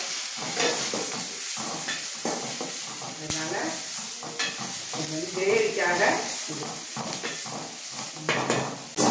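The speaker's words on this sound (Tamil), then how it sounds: "எண்ணெய் ஊற்றிருக்கேன் சட்டியில" Oil sizzles steadily in a pan while ginger paste and onions for chicken gravy are stirred, with clinks of a utensil and a person talking over it.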